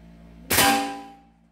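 A single sharp shot from a Hatsan Airtact PD Nitro 6.35mm air rifle cracks out close by against quiet, its ringing decay fading over about a second.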